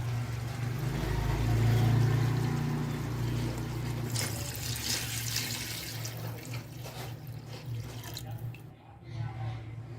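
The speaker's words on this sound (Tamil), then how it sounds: "தேவையான அளவுக்கு எடுத்து வச்சுக்கிற தண்ணியை வந்து நம்ம இதில் ஆட் பண்ண போகிறோம்" Water pours steadily into a pot of chicken biryani being cooked, a continuous gushing and splashing that swells then tapers, with a voice speaking over it.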